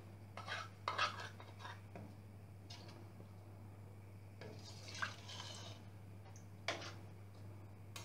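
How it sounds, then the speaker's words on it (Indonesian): A spoon stirs Kebuli rice chicken in a pot with soft, scattered scrapes and clinks over a steady low hum, quiet and close, with no talking. "Tapi diaduk dulu ya."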